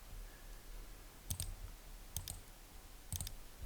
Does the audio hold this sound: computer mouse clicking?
yes